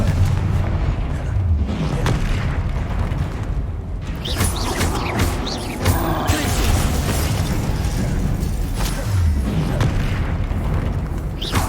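Confringo blasting spells going off in the wizarding game Hogwarts Legacy, loud booming explosions with crackling bursts and rumbling debris, repeated throughout a busy stretch of spell combat.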